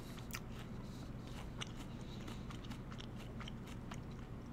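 Someone bites into a crisp Ruby Frost apple and chews it close up, giving repeated sharp crunchy snaps over a low background hum, with no talk.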